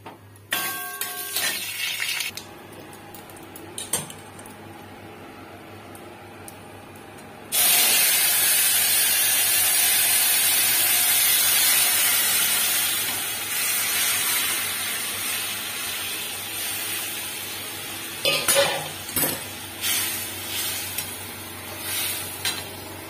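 Bay leaf, dried chilli, cumin and nigella seeds hit hot oil in a kadai, bursting into a loud, sudden sizzle that settles into a steady hiss, with scattered stirring clinks before and after.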